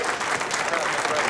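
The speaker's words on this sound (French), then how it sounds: "Et la sortie de Corey, applaudi quand même bien sûr par son frère, par tous ses supporters." Applause from the audience at a World Poker Tour final table as a player is eliminated, a dense steady patter of clapping filling the short moment at even volume, with a faint murmur of the crowd beneath it.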